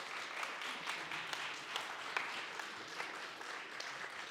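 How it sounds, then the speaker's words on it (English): Steady applause from an event audience greets award winner Payzzter at a scaleup pitch show, a dense even wash of clapping with a few sharper claps standing out, no talk. "Big applause to Payzzter."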